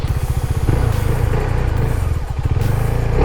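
A motorcycle pulls away under throttle during wheelie practice, its engine loud and near, with a rapid pulsing exhaust note that rises and settles over a few seconds, and no talking.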